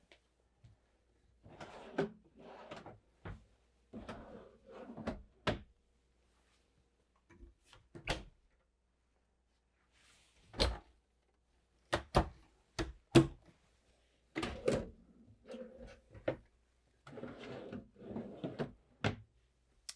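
Drawers and cabinet doors in a 2026 Newmar Dutch Star motorhome bedroom slide open and shut with a series of irregular thunks, clicks and knocks, close and fairly quiet, with no one talking.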